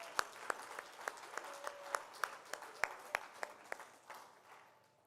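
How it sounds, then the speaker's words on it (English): Scattered applause from an awards ceremony audience: individual claps ring out sharply in a loose, uneven rhythm, thinning and fading away toward the end. "So maybe just one more round of applause"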